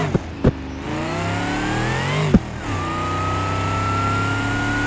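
A car accelerates hard in a car-crashing video game, the engine note climbing steadily through the gears with a few sharp clicks, loud and continuous with no talking.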